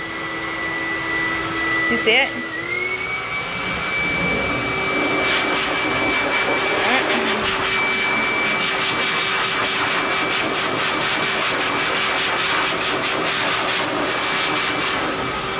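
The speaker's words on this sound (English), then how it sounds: "All right, dryer's on. Put it on high." A pet grooming dryer runs on high, a loud steady whir with a thin whine, continuing throughout while a person speaks briefly near the start.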